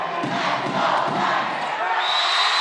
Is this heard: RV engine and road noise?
no